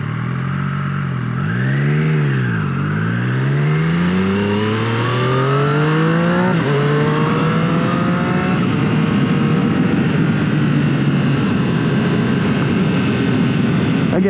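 A 2021 Triumph Street Triple R motorcycle engine on a ride, revving up and down in sweeping pitch changes before settling into a steady loud drone with wind noise, close and sustained.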